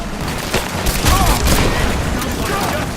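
Rapid bursts of gunfire from a Rise of the Tomb Raider firefight crackle densely and continuously, near and loud, with shouted voices mixed into the battle.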